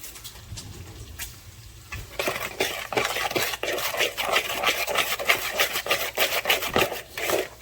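A tablespoon of plain white sugar is stirred into coleslaw, giving a close, scraping, rhythmic rustle of a utensil working through shredded cabbage in a bowl.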